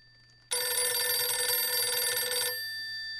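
A telephone rings in the horror video game Visage: one loud, continuous electronic ring lasts about two seconds, then cuts off, leaving a faint lingering tone in a quiet room.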